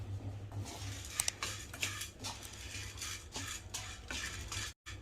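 Chana dal and spices fry in a pan with a faint, steady sizzle under continuous scraping and stirring, plus a few light metallic taps.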